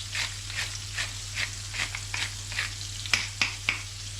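Duck breast sizzles in butter in a frying pan, seasoned with chilli, salt and pepper: a steady close crackle with irregular sharper pops and spits, no voices.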